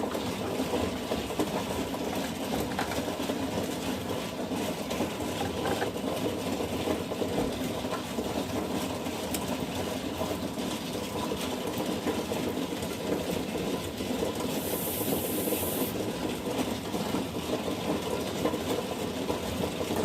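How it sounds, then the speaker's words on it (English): Fine diamond wheel grinding the edge of a larimar stone, a continuous, even machine drone with a gritty wash running steadily for twenty seconds. "So now I'll move on to the fine diamond and do the edge again."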